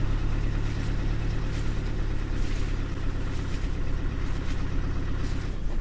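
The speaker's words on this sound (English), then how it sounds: "I will stop and put the car into low range, still first gear, low range, and I am now also driving at 1000 RPM" A 4x4 vehicle crawls in low-range first gear at about 1000 RPM, giving a steady low engine rumble with a constant broadband rush of road and wind noise throughout.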